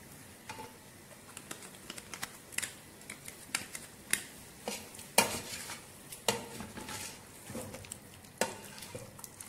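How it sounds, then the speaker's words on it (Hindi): Ginger garlic paste goes into a pan of frying beef biryani masala, with soft sizzling under repeated scrapes and clinks of a spoon against the pot, close and steady without voices. "अब मैं ये इसमें अदरक लहसुन का पेस्ट ऐड कर रही हूँ"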